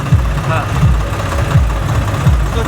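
Tractor engines idle and rumble at a farmers' protest in Ujjain, a loud low chugging with rhythmic pulses, close by and continuous.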